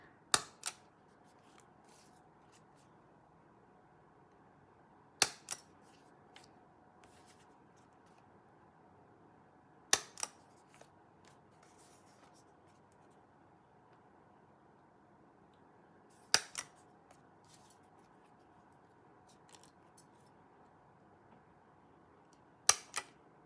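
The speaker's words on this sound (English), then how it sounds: "So I'm going to punch holes in these cards." Hole punch pressing through paper cards, five sharp isolated clacks spaced about five seconds apart, each followed by a small rattle, in an otherwise quiet room.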